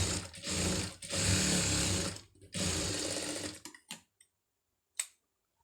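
A sewing machine puts a line of stitching along a folded hem on a hook-and-eye tape strip, whirring in three close runs before stopping, followed by a couple of faint clicks.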